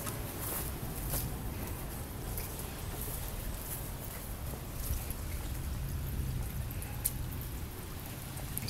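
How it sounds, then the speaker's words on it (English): Hail falls during a summer storm in North Vernon, Indiana, a dense, steady clatter and hiss of stones striking surfaces nearby, with occasional sharper hits throughout. "and we have hail."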